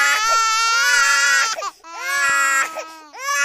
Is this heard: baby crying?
yes